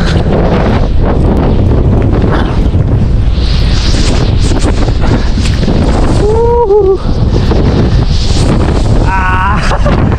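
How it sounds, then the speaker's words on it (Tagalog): Strong wind batters the microphone outdoors, a loud, continuous rumbling roar that fills the whole clip, with a few faint tonal voice-like sounds poking through. "Yan po ay hangin. Malakas yung hangin po talaga."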